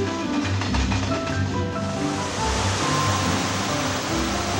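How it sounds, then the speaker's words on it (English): Gentle waves of the East Sea wash steadily against the shore, a continuous broad surf roar with a low hum beneath, heard from a coastal train. "passengers get a complete oceanside experience, including the gentle waves and white beaches of the East Sea"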